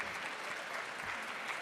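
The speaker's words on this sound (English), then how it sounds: "Shall we give a round of applause to our panelists?" A conference audience claps for a panel of speakers, a brief burst of dense, even applause heard from within the room at moderate loudness.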